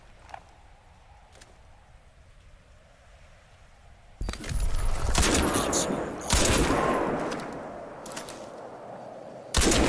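Rifle gunfire in the shooter game Crysis 2: a quiet start with a couple of faint clicks, then a loud sustained burst of rapid shots with several heavier blasts and a final sharp report at the end.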